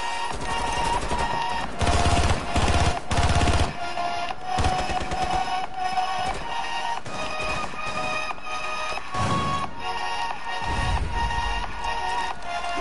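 Rapid automatic gunfire from a fast-firing rifle in Rainbow Six Siege, bursts of sharp cracks close by with short pauses between them, mixed with game effects.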